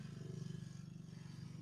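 A low, steady rumble of a low-flying propeller aircraft droning overhead, fairly loud and continuous with a pulsing throb, no voices.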